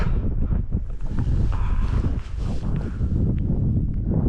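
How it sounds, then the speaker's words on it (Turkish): Strong wind roars steadily and buffets the microphone at about 2,800 m on snowy Dedegül Mountain, Turkey, a deep continuous rumble with no voices. "Rüzgar bayağı bir esiyor."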